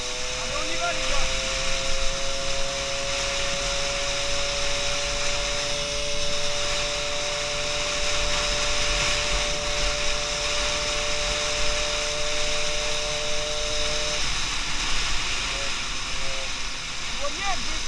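Peugeot 103 moped engine with a Conti exhaust running steadily, a continuous buzzing drone with steady harmonic tones that drop out near the end, fairly loud throughout.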